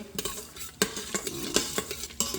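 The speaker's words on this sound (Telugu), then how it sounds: "ఇప్పుడు ఒక్కసారి అలా ఆయిల్ తిప్పించాం మసాలా ఐటమ్స్." Spices frying in hot oil for a homemade vegetable biryani, stirred with a utensil that clinks sharply against the pan several times over a soft, steady sizzle.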